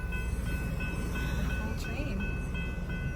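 A Metro-North passenger train of five cars passes, producing a steady, fairly quiet rolling rumble with faint high tones, heard from a distance throughout.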